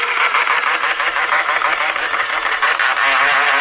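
Retractable landing gear motors on an RC Boeing 747 model run steadily, a loud, continuous mechanical whir and buzz held at a constant level, close up, with no voices.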